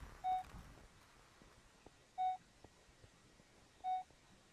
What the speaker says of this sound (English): It's beeping, trackers. But it's not beeping too fast.